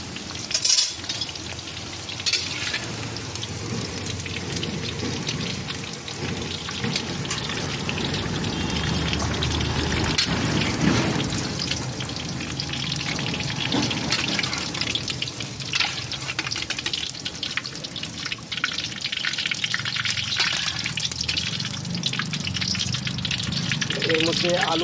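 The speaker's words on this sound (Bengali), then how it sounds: "ফুলকপিটাকে আমি হালকা ভেজে নিয়ে তুলে নেব।" Cauliflower pieces frying in oil, a continuous busy crackling sizzle like rainfall with occasional louder pops and stirring sounds, steady throughout, with a voice speaking over parts of it.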